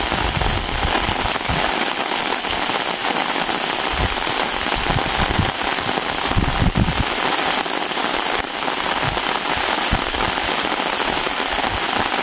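Heavy rain pouring down outdoors at midday during a spider hunt, a dense, loud, unbroken hiss of drops drumming on surfaces with scattered louder pattering hits throughout.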